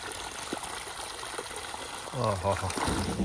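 Water gushes and splashes steadily from a farm pump motor outlet beside a sugarcane field, growing louder partway through, with voices talking faintly underneath.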